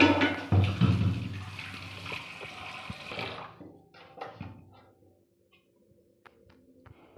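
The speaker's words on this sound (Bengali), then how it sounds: "জল বসিয়ে দিল, পাস্তা সিদ্ধ করবে তার জন্য" Water running and splashing into a pot set on to boil for pasta at home, a loud pouring rush for about three seconds that cuts off, followed by faint scattered clinks and kitchen handling noises.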